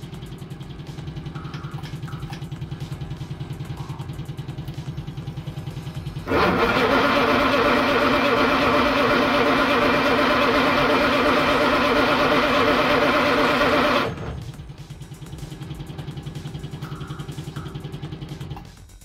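A 1945 Jaguar MkIV with a broken fuel pump, not started in a while, is cranked over in one loud, steady stretch of about eight seconds, set between quieter stretches of background noise.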